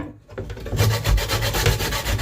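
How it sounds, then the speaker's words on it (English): Coconut being grated by hand on a rough grater, a quick run of rhythmic scraping strokes, close and loud after a brief quiet moment, with no talking. "we're going to grate that now, right?"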